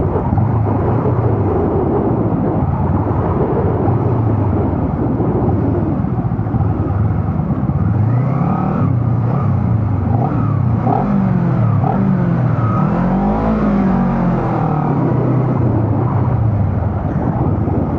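A Honda CBR250RR motorcycle engine roars and revs in busy Bukit Bintang traffic, its pitch rising and falling in waves, loud and close with a constant road rumble.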